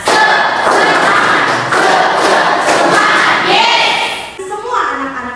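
A 9th-grade class performs a loud rhythmic clapping cheer, with heavy thumping claps and children's voices chanting together in a busy classroom.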